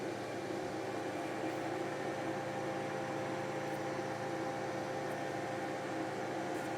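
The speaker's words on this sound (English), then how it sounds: "the motor is going pretty fast and it has a lot of power" Small electric motor running fast and blowing air, a steady even whir with broad airy hiss that holds unchanged throughout, no voices.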